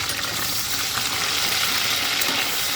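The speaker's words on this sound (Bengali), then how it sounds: "এবার আমি এতে ক্যাপসিকামটা ভেজে নিচ্ছি" Capsicum fries in a hot pan after paneer has been browned and removed, giving a loud, continuous sizzle with faint stirring scrapes throughout.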